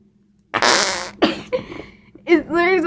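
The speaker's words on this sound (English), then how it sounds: "It literally sounds like a fart." Squeezed Play-Doh-like slime lets out a loud, wet, fart-like blurt lasting about half a second, followed by a few shorter squelches, and then a voice talking close by.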